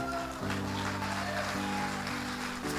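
A church congregation applauds in a steady wash of clapping that sits under sustained organ-like musical chords.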